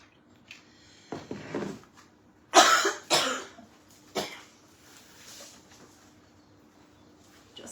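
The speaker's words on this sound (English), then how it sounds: "I have no idea why I'm coughing." Several sharp, close coughs break out in a quiet kitchen, a couple of short bursts followed by louder hacking coughs and a final single cough, with light handling noises around them.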